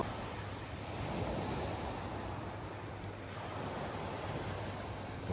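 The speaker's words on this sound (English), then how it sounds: "Borsh Beach at night." Sea waves on Borsh Beach in Albania at night, a soft continuous wash of surf with faint wind, steady and fairly distant, no one speaking.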